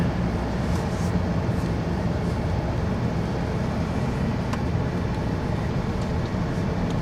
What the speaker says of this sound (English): So we'll put it in gear and start down the driveway.